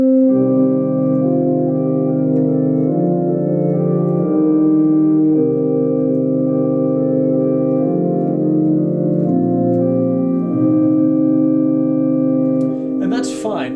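Keyboard or organ accompaniment to a Gregorian chant in mode I plays sustained chords moving in slow blocks, settling onto a minor chord at the end, with a brief noise at the close and no voices.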